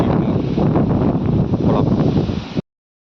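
Loud, steady wind roars and buffets a microphone on Kontaranki hill, a mountain, throughout, a dense broadband rush with gusty surges, then cuts off abruptly near the end.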